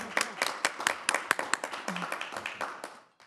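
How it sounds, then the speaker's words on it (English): Clapping from a small group at a school board meeting, a few dozen quick claps, close and fairly dry, fading out after about three seconds. "we can clap. That was incredible work."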